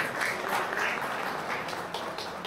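An audience at a Guhraj Nishad Jayanti ceremony in Ulhasnagar claps together, a moderate, steady round of applause that carries on without pause.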